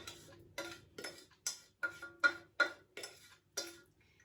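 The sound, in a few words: mixing butter, sugar, golden syrup and figs with hazelnuts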